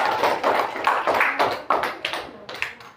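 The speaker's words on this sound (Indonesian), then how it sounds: "kasih apresiasi dulu untuk kelompok 3. Yo, tepuk tangan dulunya." A classroom of students gives a group a lively round of applause, with many hands clapping in quick, dense bursts that fade toward the end.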